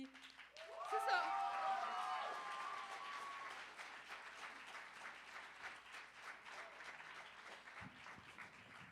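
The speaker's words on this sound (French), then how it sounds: "fait que on peut les applaudir" An audience at a Christmas show breaks into sustained applause, a dense wash of clapping that swells quickly and holds steady, with a few cheers and whistles at the start.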